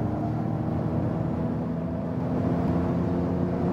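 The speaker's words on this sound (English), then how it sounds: "we can accelerate it out" The cabin of a Ford Mustang Mach-E electric car fills with a loud, steady drone of motor whine and road and wind noise as it accelerates from 100 km/h. No one speaks.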